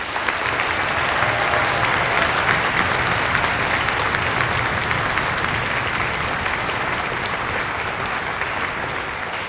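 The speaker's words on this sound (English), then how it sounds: "Can we all give them a round of applause?" Audience at a regional orchestra concert gives a long, steady round of applause, a full dense wash of clapping from many hands that stays loud and even throughout.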